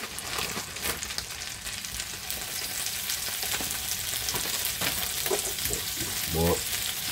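Black pudding with a base of onion frying in a pan, a steady close sizzle throughout with a few stirring scrapes and brief clatter near the end.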